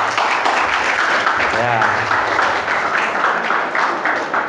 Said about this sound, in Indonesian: Harus semangat, tepuk tangan dulu nah